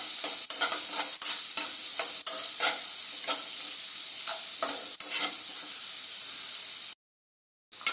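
Cumin and coriander powders fry with tomato in hot oil while a spoon stirs them, giving a steady loud sizzle broken by repeated scraping strokes, close up, before a sudden drop to silence near the end.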